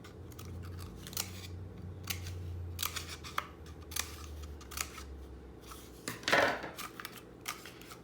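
Scissors snip through a toilet paper roll in a string of short, crisp cuts, close and alone, with a louder rustle near the end.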